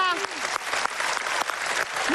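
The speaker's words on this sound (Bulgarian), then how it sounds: "Аплодисменти, дами и господа, цялата зала е на крака." Loud, continuous applause fills a hall during a televised dance competition show as the audience stands, dense clapping throughout with a short tonal musical flourish at the very start.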